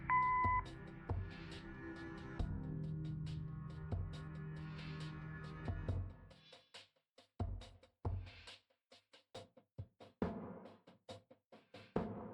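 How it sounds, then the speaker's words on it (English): A game answering machine in Kathy Rain sounds a short electronic tone near the start, followed by a low hum that cuts off, then scattered knocks and clicks. "Leave a message after the beep."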